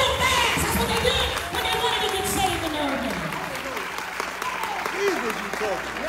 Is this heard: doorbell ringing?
no